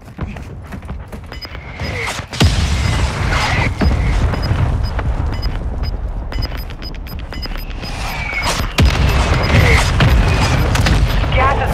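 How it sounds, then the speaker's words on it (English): Mortar strike explosions in Call of Duty Warzone 2.0: several heavy booms land at intervals amid steady background rumble and clatter, loud and nearby, with game voice callouts over them. "Hostile mortar strike near your position."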